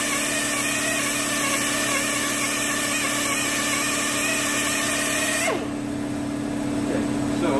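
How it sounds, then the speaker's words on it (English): An air compressor running steadily and loudly nearby with a constant hum, its tone shifting abruptly near the end as it cycles while vinyl stickers are being removed. "wait for the air compressor to kick off"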